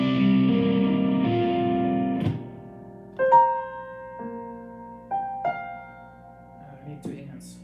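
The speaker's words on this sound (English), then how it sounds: "3 notes together in the treble section sound better with distortion" Piano notes and chords played through a distortion effect, starting with a thick sustained chord that is then cut off, followed by sparser buzzy held notes and chords struck one after another with gaps between them.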